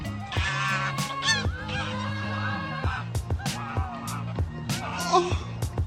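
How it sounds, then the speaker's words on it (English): A pet goose honks loudly and repeatedly as it greets a woman arriving home, its harsh calls coming in bursts close by, mixed with other fowl-like squawks and faint background voices. "Just a woman being welcomed home by her pet goose."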